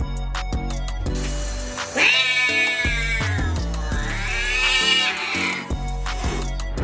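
A caged cat meows loudly and insistently in long, drawn-out wavering cries, twice in a row, close to the listener over a thumping, rhythmic background music bed.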